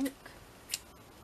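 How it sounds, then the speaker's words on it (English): Scissors snip a tiny piece off a paper page, two short, faint cuts in an otherwise quiet moment. "I'm going to cut it off there, I think."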